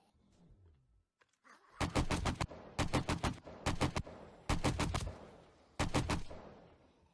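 Bursts of rapid gunfire at zombies in 7 Days to Die, five loud close volleys of automatic shots separated by short pauses, after a quiet start.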